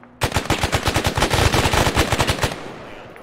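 Rapid automatic gunfire in Arma 3, a close, loud burst of evenly spaced shots running for about two seconds before stopping abruptly. There is no talking.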